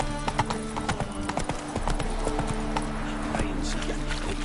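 Hooves of the horse Roach clip-clopping at a gallop in The Witcher 3: Blood and Wine, a fast irregular clatter running steadily over background game music.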